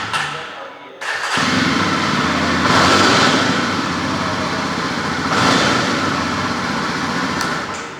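A motorcycle engine starts with a sudden catch after a brief quiet, then settles into a steady running drone that swells twice as the throttle is blipped, heard close and alone.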